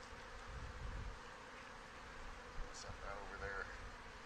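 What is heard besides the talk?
honey bees buzzing at an open hive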